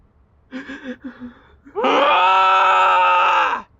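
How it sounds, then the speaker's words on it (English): A man cries out in anger and heartbreak: a few short gasping, sobbing groans, then one long, loud, sustained anguished shout that rises and holds for nearly two seconds before cutting off. "shouts at the top of his lungs in anger and heartbreak over the loss of his girlfriend"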